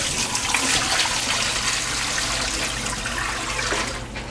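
Water from freshly soaked morel mushrooms drains steadily into a bowl or sink, a continuous splashing, trickling wash that runs close and fairly loud for the whole stretch with no voices.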